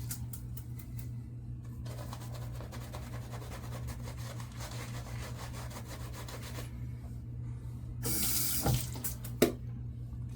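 Water runs steadily from a tap into a sink, with a brief louder splash near the end; no one speaks.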